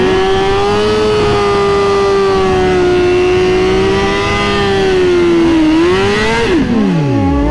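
Suzuki GSX-R 1000 and BMW motorcycles accelerate side by side, a loud, close engine note climbing steadily through the gears, then swooping downward near the end as a bike passes.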